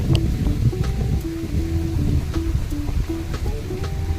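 Wind buffets a microphone outdoors during a rainstorm, a heavy low rumble with scattered sharp ticks of rain and a faint steady hum underneath.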